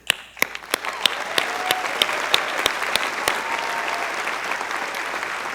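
A large audience at a college commencement ceremony applauds the graduating class of 2016, starting with a few sharp individual claps that swell into sustained, full applause.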